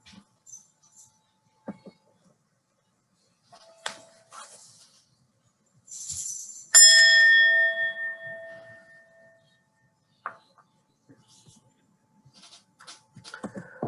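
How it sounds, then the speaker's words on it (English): A single bell rings out clearly and lingers, its bright tone slowly fading in a quiet room with faint rustles and soft movement around it. "until you hear the sound of the bell"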